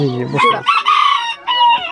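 A Malted Cochin rooster, a fancy breed kept by a home poultry keeper, crows loudly and close by in a full, drawn-out call broken into several bursts, with no talk over it.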